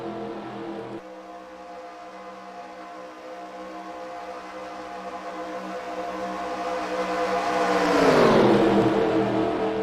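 Race cars circle Daytona in the eNASCAR Heat video game, producing a sustained, loud engine whine that swells and sweeps sharply in pitch as a car passes close near the end.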